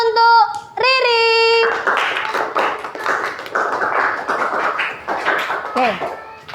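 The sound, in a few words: applause, hand clapping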